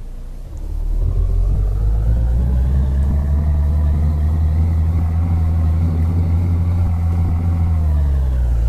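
A heavy truck engine in Euro Truck Simulator 2, a Volkswagen Constellation, rumbles loud and steady with a low drone that shifts in pitch as gears change, with no voices over it.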